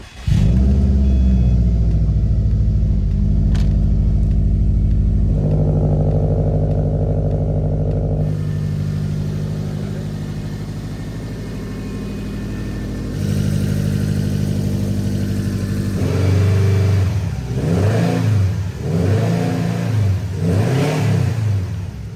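A Subaru STI engine revs repeatedly, rising and falling through several loud throttle blips over a rumbling idle, heard close with no voices.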